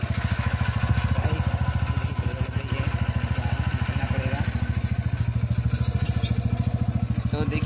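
A motorcycle rides along with its engine putting out a steady low throb that pulses evenly and stays loud throughout, with no one talking over it.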